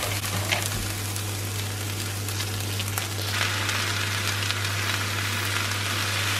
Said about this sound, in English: I'm going to go ahead and add in the Italian sausage.